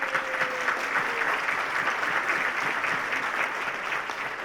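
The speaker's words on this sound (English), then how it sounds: "So let's give them all a great round of applause." An audience at a county economic development event gives a sustained round of applause, dense steady clapping from a full room lasting throughout.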